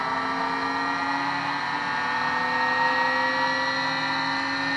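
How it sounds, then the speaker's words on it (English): A pulse motor spins at high speed with a steady, smooth whine, close and continuous without change in pitch. "The sound it's making is pretty nice. It's like a high performance motor."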